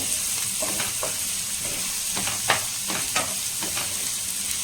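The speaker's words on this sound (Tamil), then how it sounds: "ஸோ இப்போ வெங்காயம் வந்து வதங்கட்டும்." Small onions and black pepper sauté in a pan for a tangy South Indian kara kuzhambu, a steady close sizzle broken by rhythmic stirring scrapes, with no talking.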